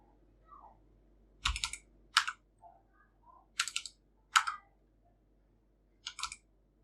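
Computer keys are pressed as a Ctrl+Z combination, giving about five clear, separate clicky taps, with fainter soft key touches between them, close up in a quiet room with no voices.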